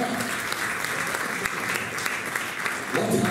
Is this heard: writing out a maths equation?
no